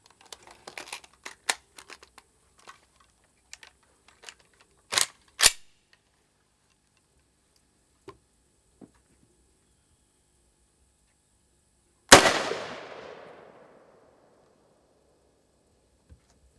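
Two sharp 7.62 rifle shots strike a steel armor plate early on, followed after a pause by a much louder, close impact crash with a long ringing decay, with a few faint ticks and rattles scattered between.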